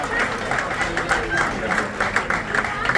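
A crowd claps steadily at a medical and assistive aids distribution event, with dense overlapping hand claps filling the room and a voice faintly audible underneath.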